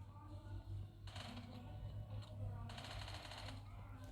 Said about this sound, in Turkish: Her yerden vuruyorlar ya